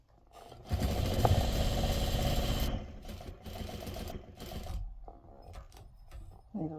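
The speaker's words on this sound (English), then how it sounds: "So I'm going to sew to the seam and stop" A sewing machine stitches a patchwork seam on a bowl cozy, running in a steady dense burst for about two seconds, then stopping and restarting in shorter, softer spurts with small handling noises between.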